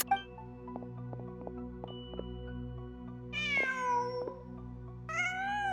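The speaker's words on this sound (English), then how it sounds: "Just a cat." A cat in the video game Genshin Impact, in the Nod-Krai area, gives two drawn-out meows, the second shorter and rising, over a steady low game ambience and faint ticking sounds.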